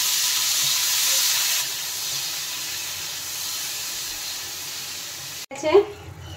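A banana flower curry with sugar, salt and a splash of water cooks in a pan, giving a steady close hiss and sizzle that softens midway, followed by a brief clatter at the end.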